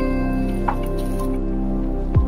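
Mustard oil is poured and drips with a short wet squish onto fish laid on fresh sal leaves, heard close over a steady low hum.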